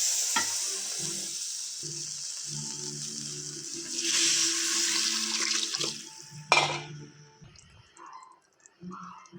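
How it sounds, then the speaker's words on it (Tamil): Tamarind extract poured into an onion and garlic kulambu simmering in a mud pot, a watery rushing splash over gentle sizzling and stirring that swells midway, then a sharp clatter and quieter bubbling. "இப்போ நம்ம தயாரித்து வச்ச புளிக்கரைசலை ஆட் பண்ணிக்க வேண்டியதான்"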